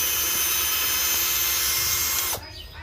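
A power drill drives a 3-inch screw into the frame of a budgie flight cage, whining loudly and steadily for over two seconds before it abruptly stops.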